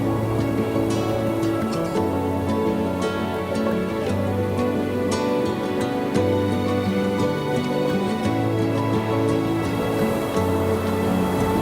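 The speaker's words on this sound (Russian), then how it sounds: "Но при том, что дождь такой слабенький и тепло." Light, warm rain falls steadily in a medieval Italian town, a soft even patter of drops with faint ticks over a constant low hum, no voices, heard throughout.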